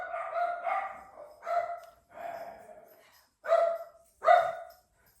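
Pet dogs bark in separate bursts of one or two, fairly close but moderate in volume, with quiet gaps between them and no talking over the barks.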